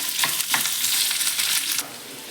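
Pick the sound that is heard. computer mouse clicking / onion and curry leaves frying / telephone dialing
onion and curry leaves frying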